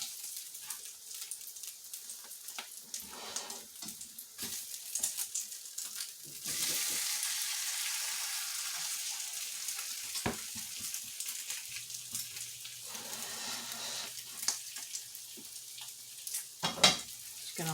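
Tortang giniling, Filipino ground beef omelettes, frying in a pan: a steady close sizzle that swells into a loud, bright crackle midway, then settles back with a few sharp clinks and scrapes.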